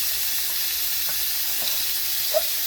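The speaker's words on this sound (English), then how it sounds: "And then you brown the other side." Beef pot roast searing in a hot pan, a steady close sizzle with soft crackles and a brief pop near the end, no voices.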